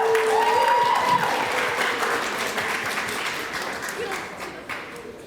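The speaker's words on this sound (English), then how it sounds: "can we get another round of applause for our special guests?" An audience claps for special guests at a financial literacy scavenger hunt event, a dense wash of applause that starts strong and slowly fades, with a brief voice and a whistle-like tone early on.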